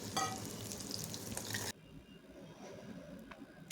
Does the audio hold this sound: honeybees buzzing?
no